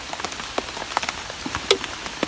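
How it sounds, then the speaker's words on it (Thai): Heavy rain patters on surfaces in a rural outdoor setting, a close, irregular spatter of individual drops striking at varying loudness over a soft steady hiss. "ฝนตกหนักแล้วก็พักก่อน"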